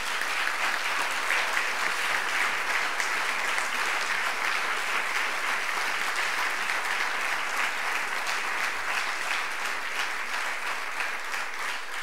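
Sustained, dense audience applause fills a round-table discussion on Cicely Saunders in San Sebastián, steady and even from start to finish with no voices over it.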